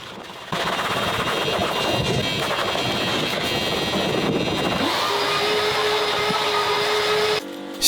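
A vacuum cleaner runs steadily inside a Volkswagen Golf during an interior deep clean, a loud continuous whine and roar with no talk, briefly cutting off near the end.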